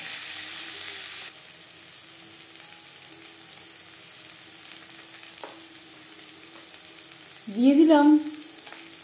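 Green chillies and onion frying in a pan give a steady low sizzle that carries on quietly, with a brief spoken phrase near the end.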